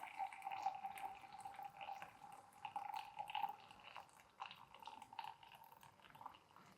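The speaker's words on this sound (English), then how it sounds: "then I'm going to pour 200 grams of water until we arrive at 250" Water poured in a steady stream into an AeroPress with wet coffee grounds, a continuous soft trickle and splash that runs evenly and close throughout.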